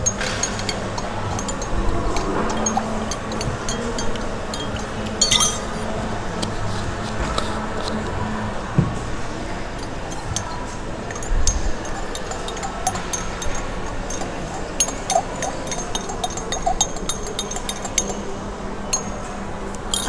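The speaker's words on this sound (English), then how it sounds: "And you want to mix that until it's well dissolved." A spoon stirs slime activator solution in a glass, steady light clinking and scraping against the glass throughout, fairly close, with a sharper clink now and then and no talking.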